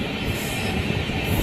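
A train at the Kazipet locomotive maintenance shed gives off a continuous broad rumble with faint wheel squeal, loud and close, with no voices over it.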